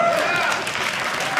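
A comedy-show audience breaks into loud, dense applause that holds steady throughout, mixed with crowd noise and a few scattered whoops.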